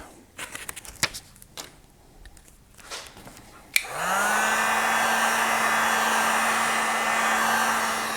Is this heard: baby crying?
no